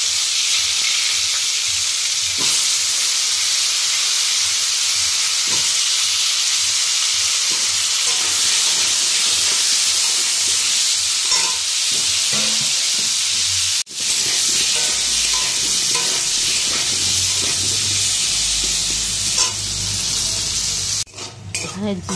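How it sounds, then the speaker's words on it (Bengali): Cumin, bay leaf and whole garam masala sizzle steadily in hot oil, a loud continuous frying hiss with occasional stirring scrapes and a utensil knock near the end. "এখানে জিরে, তেজপাতা, গোটা গরম মশলা সব ফোড়নে দিয়ে দিলাম"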